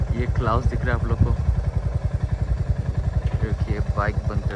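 A Royal Enfield Hunter 350 motorcycle engine runs close by with a steady, rapid thumping pulse, while someone talks over it.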